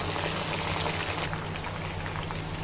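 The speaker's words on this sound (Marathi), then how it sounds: "फ्लावर धुवून घेतलाय बारीक कापून. तो फ्राय व्हायला टाकला." Finely chopped cauliflower fries in hot oil over a high gas flame, a dense, steady crackling sizzle like heavy rain, close and continuous without pause or voices.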